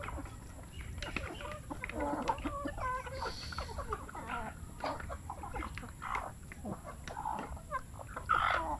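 A broody hen, sitting even though she has no eggs, gives low repeated clucks and short calls at close range. The soft clucking comes in irregular bursts over a faint background hum.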